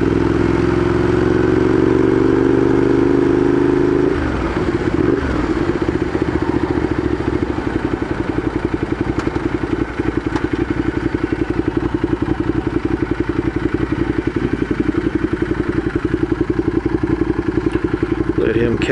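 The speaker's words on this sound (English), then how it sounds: "the bike is feeling shitty and stuttery," A motorcycle being ridden with its engine stuttering, a loud, close, continuous engine drone that shifts pitch early on, then a rough, uneven throb with wind noise throughout.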